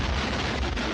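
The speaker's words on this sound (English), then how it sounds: "Explosion." A film explosion effect from Evil Dead 2 roars as a dense, steady, loud blast of rumble lasting about a second, with no talking.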